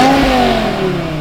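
A BMW M6's V10 engine revs high in one short, loud, rising and falling rev, heard close by with no talking.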